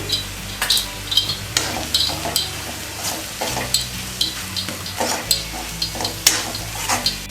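Roasted gram flour is stirred into a cauliflower masala in a hot pan, giving repeated spoon scrapes and clinks over a continuous sizzle, close and fairly loud with no talking.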